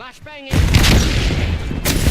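A flashbang grenade detonates in the video game Robocop Rogue City: a loud, broad blast that roars on for over a second, then a second sharp burst right after. A voice talks briefly just before the explosion.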